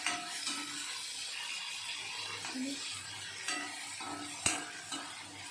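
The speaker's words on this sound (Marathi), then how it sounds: "आणि मग टोमॅटो टाकायचा. मस्त परतून घ्यायचं." Tomato sautéed in a pan for chole gravy, a low steady sizzle with intermittent metal spoon scrapes and one sharp clink against the pan, close and without speech.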